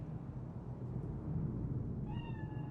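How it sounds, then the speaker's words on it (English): Single cat meow in Cyberpunk 2077, a clear rising-and-falling cry near the end, heard over a low, steady rumble of background ambience. "Chill, just a cat."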